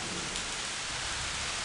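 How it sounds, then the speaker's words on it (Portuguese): Heavy September rain in Guajará-Mirim, Rondônia, after a long dry spell: a dense, steady hiss of downpour on surfaces, uniform and unbroken for a moment. "essa chuva foi a mais forte"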